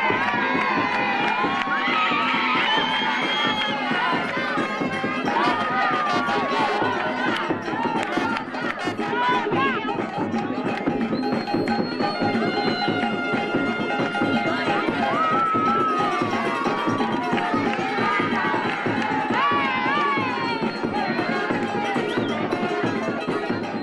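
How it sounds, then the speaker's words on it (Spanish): A live audience applauds and cheers for Rosa María Moret, a steady wash of clapping with shouts and whoops mixed in, loud and continuous throughout. "dándome aplausos que yo creo que todavía no me merezco"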